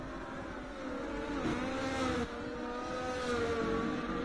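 A McLaren rally car engine roars in a racing video game on a Portugal stage, holding a steady, loud, close note that rises and falls in pitch as it climbs a sweeping uphill right-hander toward the finish.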